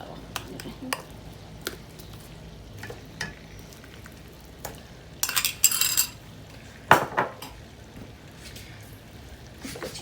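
Mutton karahi with ground onion being stirred in a pot: repeated scraping and clinking of a metal spoon against the pan over a low sizzle, with a few louder bursts of clattering.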